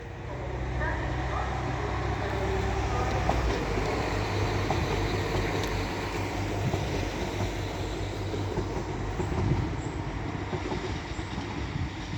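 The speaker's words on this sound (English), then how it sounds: "So now getting ready to depart is a Northern Class 195 going to Leeds" A Northern Class 195 diesel multiple unit departs York station bound for Leeds, a continuous low engine rumble and rolling hum holding steady throughout, with faint station background.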